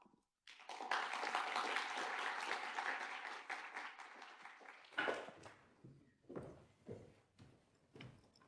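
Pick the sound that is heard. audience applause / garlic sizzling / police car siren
audience applause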